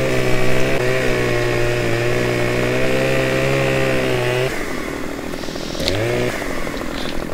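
A Stihl MS261 chainsaw in the video game Farming Simulator 15 drones loudly with a steady buzzing whine, then its pitch drops and wavers as it bites into a tree, revving again briefly near the end.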